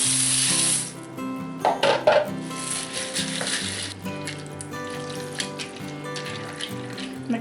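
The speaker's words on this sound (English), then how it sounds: "And then we're going to add in our macaroni." Dry macaroni tumbles into a venison skillet meal in a cast iron pan, with a broadband sizzling rush and clattering stirring and scraping over a steady tonal background, loud and close throughout.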